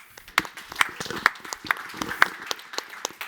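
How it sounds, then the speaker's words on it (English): Scattered hand claps from a small group at an awards ceremony, with several sharper claps standing out at a loose, irregular pace. "And applause to Lola Knorr, please."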